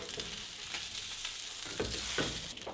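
Breadcrumb-crusted lemon garlic salmon fries in a pan over medium heat, giving a dense, continuous sizzle with crackling spits scattered through and slightly livelier popping near the end.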